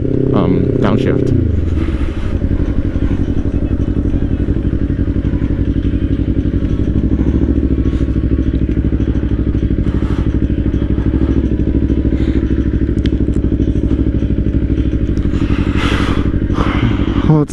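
A 2024 Kawasaki Ninja 500 KRT SE riding on the road to a lake, its engine droning loud and steady up close with rumbling shifts in pitch and wind buffeting throughout.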